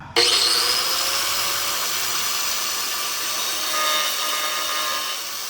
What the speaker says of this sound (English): So I'm gonna cut a little access hole, unfortunately.